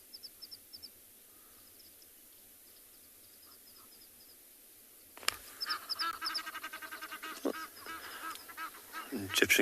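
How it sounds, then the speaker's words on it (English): Egyptian geese arriving at a Kalahari safari reserve at sunrise: faint distant honks at first, then a sudden loud burst of repeated honking and calls close by that continues in ragged, overlapping bursts. "Egyptian geese have just arrived."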